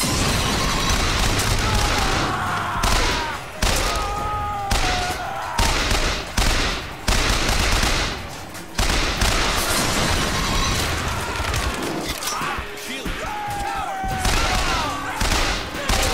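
Rapid bursts of SMG fire in the shooter game Bioshock Infinite, loud and close, with repeated volleys, booms and impacts across a chaotic combat scene.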